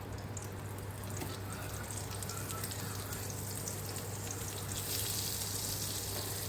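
Shrimp cooking in a pan with oil and butter, giving a steady, even sizzle and faint crackle that holds at a constant level throughout.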